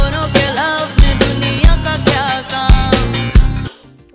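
Music plays through the built-in pair of 3-watt speakers of a Hyundai 28-inch LED TV, with a steady beat and strong bass thumps about every second, fairly loud, then cutting off near the end.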